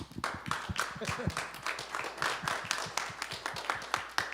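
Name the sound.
applause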